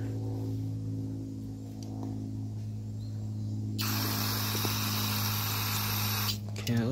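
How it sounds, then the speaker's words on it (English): Fuel sprays from the fuel line of a junked generator, a sharp steady hiss bursting in partway through and running for about two and a half seconds over a constant low mechanical hum. "fuel should spray out."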